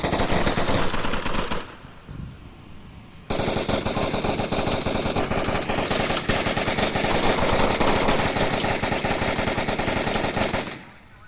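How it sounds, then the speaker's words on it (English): Loud, sustained automatic gunfire from rifles in the VR shooter Onward during a competitive team match, rapid bursts filling the scene, with a brief lull near two seconds before the firing resumes. "Poopachu just pre-firing through those bushes"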